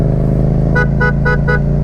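A motorcycle horn, with water inside and one of its two horns failing, gives four quick, evenly spaced toots over a steady engine hum.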